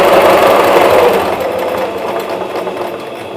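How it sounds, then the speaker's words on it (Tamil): Sewing machine stitching under foot-pedal control, a loud close whirring hum that starts fast and gradually slows as the pedal is eased off. "மெஷின் ஸ்டிச் பண்ணும். ஸோ நம்ம ப்ரெஸ் பண்ணுறதுக்கு ஏற்ற மாதிரி தான் ஸ்டிச்சு."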